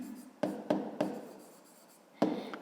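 A pen writes on paper in a math lesson: several sharp taps and short scratching strokes, close and quiet, with no talk.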